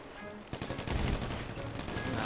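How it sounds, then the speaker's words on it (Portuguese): Rapid gunfire from the video game GTA V crackles in a dense, sustained burst after a brief lead-in, loud and continuous like automatic weapons. "Tá tomando tiro do Tota, merda."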